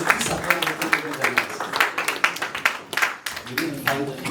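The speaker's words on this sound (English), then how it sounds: "Can we really clap for the management?" Guests clapping at an optometry students' association dinner, a ragged burst of handclaps from a modest crowd, close and fairly loud, thinning out toward the end.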